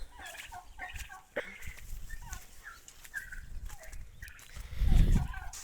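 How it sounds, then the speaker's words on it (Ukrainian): Nearby turkey and chicken calls with clucks and gobbling amid farmyard noise, including turkey chicks and laying hens, ending in a low rumbling burst. "Наш індик."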